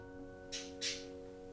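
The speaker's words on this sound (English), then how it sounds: "Oh, the birds are excited." Birds squawking, two short harsh calls in quick succession, faint and somewhat distant over a steady low hum.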